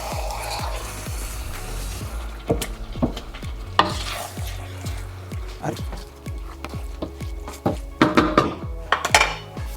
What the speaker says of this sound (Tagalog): Tapos haluin nyo.